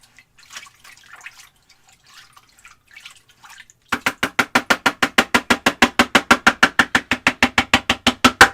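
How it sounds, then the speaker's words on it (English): Oil paint brush being rinsed in water, faint scattered sloshes at first, then a rapid regular series of close tapping splashes as the brush is swished, with no speech. "Now we just rinse the brush off."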